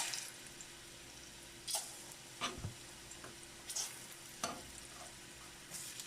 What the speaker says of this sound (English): I'm going to start putting my plantain on to fry